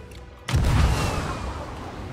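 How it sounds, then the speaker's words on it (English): A single deep cannon boom in the video game Sea of Thieves bursts in after a quiet moment, then rolls away into a long fading rumble. "Oh, the cannons are firing again."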